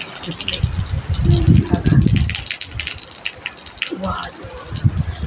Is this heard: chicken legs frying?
no